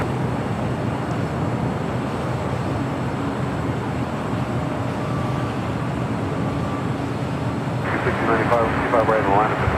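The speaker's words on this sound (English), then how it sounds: "Speedbird should be taking off here any second" Steady broadband roar from a British Airways airliner taking off at LAX, loud and sustained throughout, swelling slightly toward the end, with airport ambient noise around it.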